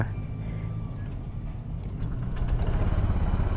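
A Honda Click 125i motor scooter engine idles steadily up close, a low, even hum with a faint rattle and no speech.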